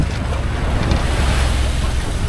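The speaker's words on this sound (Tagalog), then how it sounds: "Malaki ang alon oh, mga kabutit." Big ocean waves slap and roar around a small boat heading home off Palawan, a loud continuous rush of water mixed with heavy wind buffeting on the microphone and no clear talk.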